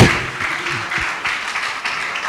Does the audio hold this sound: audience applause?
yes